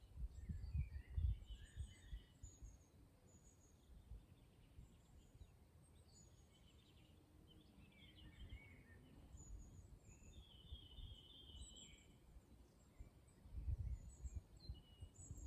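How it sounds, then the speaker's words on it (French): Small birds sing and chirp in the distance, faint high trills and short calls scattered over a quiet outdoor background, with occasional low rustles. "recevoir ces chants d'oiseaux que vous entendez"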